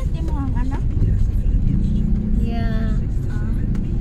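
Road traffic with cars driving past, a steady broad engine and tyre rumble filling the whole stretch while people talk over it in the foreground.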